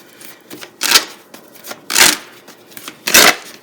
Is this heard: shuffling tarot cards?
yes